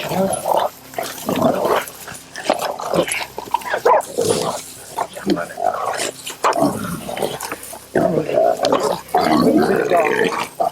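Hunting dogs bark and growl at a cornered wild hog during a hog hunt, loud and close in ragged bursts, with a squealing grunt mixed in and people shouting over the commotion.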